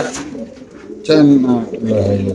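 Racing pigeons in cages coo in low, throaty rolls close by, while someone talks over them throughout.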